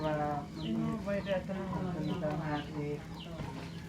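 Chickens clucking in rural Laos, a close cluster of repeated clucks and short calls in uneven rhythm, fairly quiet with some background voice-like sounds mixed in.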